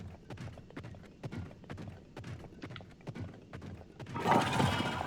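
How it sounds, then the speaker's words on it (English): Skeleton horses clip-clop along in Zelda: Tears of the Kingdom, a steady run of hoof strikes close by and fairly quiet, ending in a brief burst of broadband noise. "Skeleton horses"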